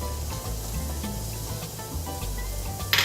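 Onions and garlic sizzle in olive oil in a sauce pot, producing a soft, steady hiss with faint crackles throughout. A brief louder spray-like burst comes right at the end.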